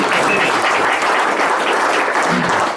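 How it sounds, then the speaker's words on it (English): Audience at a Christian businessmen's luncheon in Tulsa breaking into loud, dense applause, many hands clapping continuously and evenly at close range for the whole stretch, with no speech over it. "Rick started that applause, Mr. Roche"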